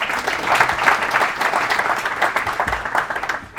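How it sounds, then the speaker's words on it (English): A book launch audience claps at a property-investment event, dense and steady for the full stretch, with a slight thinning near the end and no talk over it. "Let's give them a round of applause"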